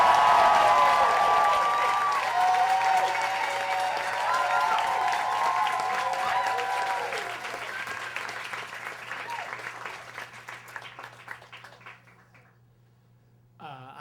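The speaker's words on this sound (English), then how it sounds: "you're going to erupt in wonderful and supportive applause" Theater audience applause with some cheering, loud and full at the start, then slowly thinning and fading away over about twelve seconds until it stops.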